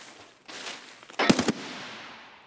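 A short cluster of three or four close, sharp gunshots rings out in Escape From Tarkov, each loud and clipped, preceded by softer game ambience and followed by a fading tail.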